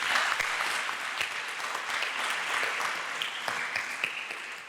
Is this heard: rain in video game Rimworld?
no